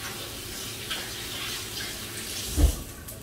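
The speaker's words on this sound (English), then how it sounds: "I've got messy hands again, so I'm just gonna rinse those." Steady running tap water streams over hands being rinsed in a kitchen sink, a continuous wash with a brief louder splash near the end, close and alone.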